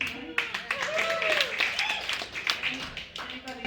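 An audience at an evening show claps and cheers in a warm scattered burst, with a voice talking over the applause throughout.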